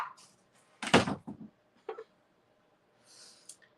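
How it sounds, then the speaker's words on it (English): A door swings shut indoors with one solid thump, followed by a couple of softer knocks and rattles, then a faint shuffle and a brief high hiss at the end; the room is otherwise quiet. "We're gonna close the door."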